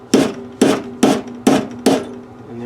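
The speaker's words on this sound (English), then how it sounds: "It's typical punch, ball peen hammer" A ball peen hammer strikes a punch five times at an even pace to drive a sheared key out of a Poulan Pro flywheel, each hit a loud, close metallic clank with a short ring.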